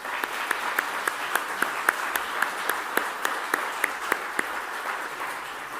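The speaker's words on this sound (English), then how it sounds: "Let's give them a huge round of applause." An audience at the Australian Capital Territory Australian of the Year Awards ceremony breaks into sustained applause, a steady crowd of clapping with a few sharper, nearer claps standing out at a regular beat.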